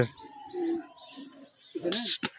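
Rajshahi giribaj pigeons call in short chirps and soft coos, nearby and fairly faint, ending in a sharper burst of bird sounds.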